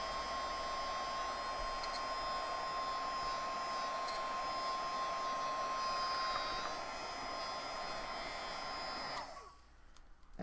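A hair dryer blows steadily to dry ink, a close, loud continuous whooshing hum with a whine that runs for most of the clip, then drops off near the end.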